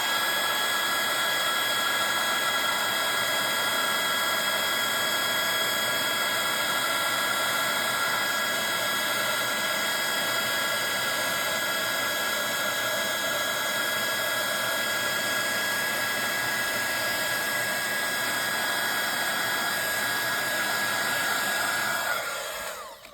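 A heat tool warms embossing powder on a stencilled card, giving a loud, steady, blowing whir that runs unbroken for over twenty seconds before cutting off at the very end.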